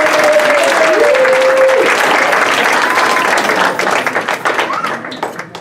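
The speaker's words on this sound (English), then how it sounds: "Let's have a big hand and applause for Patrick." Wedding guests at a reception break into loud, dense applause for a groomsman. The clapping is close and sustained, then thins into scattered claps at the end, with a brief tone and faint voices early on.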